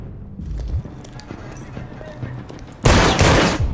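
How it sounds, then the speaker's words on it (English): Gunshot in Detroit: Become Human, with a sudden loud burst of gunfire near the end that cuts through tense game ambience and continues as a dense, noisy blast. "I knew someone got shot eventually."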